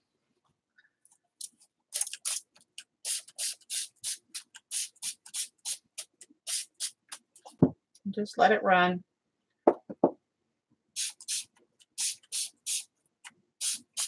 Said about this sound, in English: Take your spray bottle.